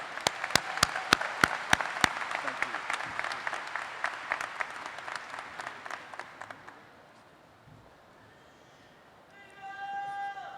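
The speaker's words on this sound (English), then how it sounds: "how about another round of applause?" Applause at an award presentation during a college live-streamed ceremony: a few loud individual claps up front, then a steady crowd clapping that gradually fades out, with a brief voice at the very end.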